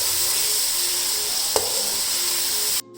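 Cabbage and vegetables for chicken spaghetti sizzling loudly in a pan in a dense, steady hiss, with one brief stirring clack midway before the sound cuts off abruptly.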